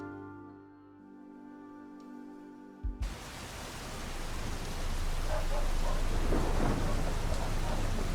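A thunderstorm in the video game Best Served Cold: after a quiet low hum, a sharp thunder crack hits and a loud, dense downpour of rain takes over, steady and enveloping with distant rumbles underneath.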